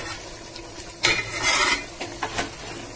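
Chopped onions are tipped into a pot for mutton curry with potato and stirred, giving a few close scraping, rasping strokes of a spoon against metal over a low background.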